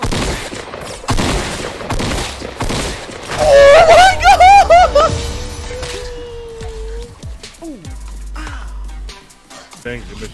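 Rapid gunfire crackles in Fortnite, dense bursts of shots through the first few seconds and scattered shots later, mixed with excited shouting and groaning voices.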